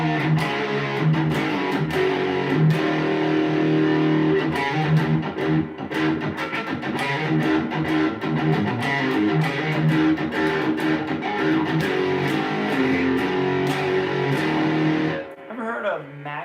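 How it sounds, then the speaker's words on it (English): Electric guitar played through an LPD 87 drive overdrive pedal into a Fender Super Reverb amp: a continuous driven, sustained tone with picked chord and note attacks, loud and close, cutting off abruptly near the end with a brief pause. "I'm just playing through a super reverb. And then I have this, it's an LPD pedal,"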